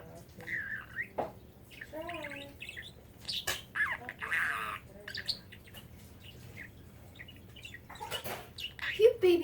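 A pet bird squawks and chirps in short, sharp bursts close by, its calls scattered between a person speaking to it indoors.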